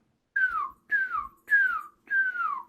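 A person whistles four short descending chirps in an even rhythm, imitating a baby chick peeping. The whistles are clear and close, with brief silences between them.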